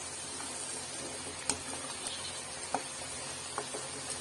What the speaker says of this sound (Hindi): मैं इसे लगातार चला रही हूँ जिससे कढ़ाई में स्टिक ना हो और इसके लाल हो जाने तक मैं इसे भूनूंगी